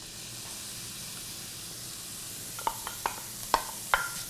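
Chopped onion and green pepper sizzle in a paella pan with a soft, even hiss, then a few sharp clicks and knocks of a utensil toward the end.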